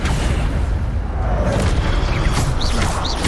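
The Incendio fire spell is cast in Hogwarts Legacy, producing a dense, roaring burst of flame and booming game effects that fill the whole short stretch, with a few brief whooshing swells near the end.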